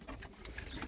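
Pigeons brought from Ankara give a brief, faint, low cooing murmur close by, with no voices.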